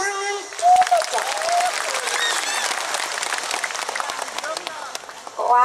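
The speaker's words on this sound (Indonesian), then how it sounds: "Tepuk tangan dulu dong." An audience at an Islamic religious lecture in Krebet, Ponorogo claps loudly in a steady, dense burst of applause that runs throughout, close and full.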